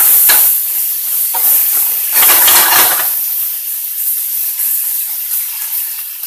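Venison strips sear in a hot pan with a loud, steady sizzle that swells in bursts near the start and around the middle, then settles into a constant hiss, close by with no talking.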